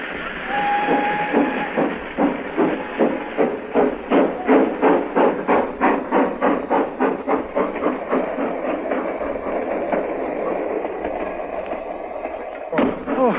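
A steady, rhythmic chugging of a train, pulsing regularly and loudly, with a brief whistle-like tone at the start and a clunk near the end.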